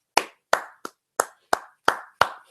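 One person claps hands eight times in an uneven rhythm, sharp close slaps separated by silence.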